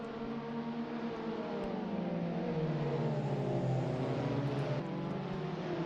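Caterham race cars racing at Knockhill circuit give a continuous droning engine roar with shifting, rising and falling pitch, several cars blending together at moderate distance.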